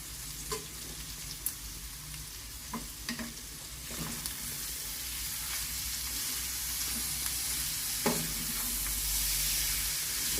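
Prawns fry with onions in a pan, a continuous sizzle broken by repeated clicks and scrapes from stirring, growing slightly louder and hissier toward the end.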